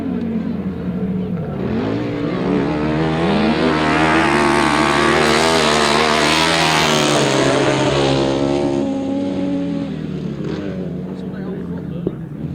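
A racing motorcycle engine revs hard and close, its pitch climbing and falling as it passes, loud and continuous.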